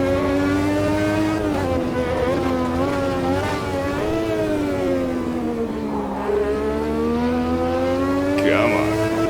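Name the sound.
race car engine in Automobilista 2 video game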